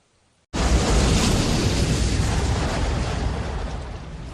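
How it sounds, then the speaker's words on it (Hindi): Roaring floodwater from the Chamoli glacier burst flash flood: a sudden onset of loud, dense, broadband rushing that sustains without a break and eases only slightly. "पानी की ये तेज आवाज ही दिलों में दहशत पैदा कर देती है।"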